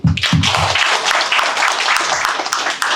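An audience at a talk with a Justdial tech leader bursts into applause, dense close clapping that fills the whole moment after a couple of low thumps at the start.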